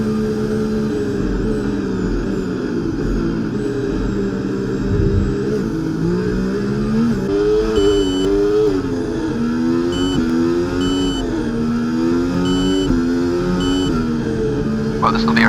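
Formula 1 cars from the EA Sports F1 game run in a pack behind the safety car at the Baku street circuit in Azerbaijan, a steady loud engine drone with shifting pitch throughout.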